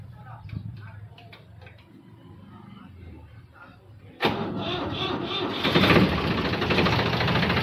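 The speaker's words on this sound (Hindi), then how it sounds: "तो थोड़ी सी आवाज़ सुनवा ट्रैक्टर की आपको" A Farmtrac 45 tractor's diesel engine cranks and catches abruptly partway through, then settles into a loud, rough idle that swells slightly; quiet clicks and faint voices come before the start.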